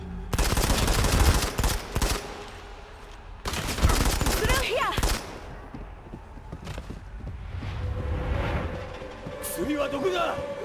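Bursts of rapid gunfire in the video game Modern Combat 5 rattle in loud volleys, pausing between salvos, with scattered single shots and a voice speaking faintly underneath.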